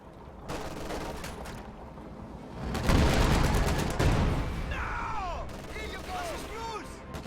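Rapid gunfire and heavy booms from a pack howitzer crackle through a World War II strategy game battle, with dense bursts of shots, a louder volley midway, and a commentator talking over the din.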